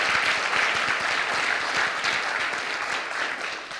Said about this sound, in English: Let's fucking give Kent a round of applause